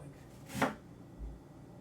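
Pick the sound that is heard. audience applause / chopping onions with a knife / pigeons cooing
chopping onions with a knife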